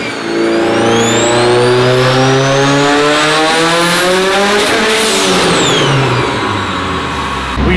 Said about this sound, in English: We just hit a boost cut.